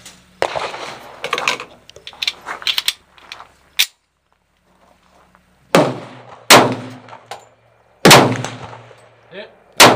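H&R M1 Garand rifle firing outdoors, several loud sharp shots spaced a second or two apart, each with a ringing tail, mixed with clanks and handling noise between shots.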